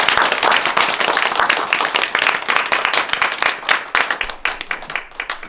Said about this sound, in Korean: 교수님께 다시 한번 박수 부탁드립니다